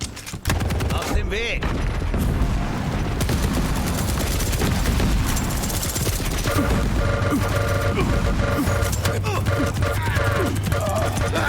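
Quake nailgun fire during a fast deathmatch duel: sustained loud, dense rapid fire with impacts and game effects packed together, nearly continuous across the whole stretch.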